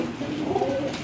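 A Karna racing pigeon coos softly in a low, continuous murmur, close by and alone with no talk over it.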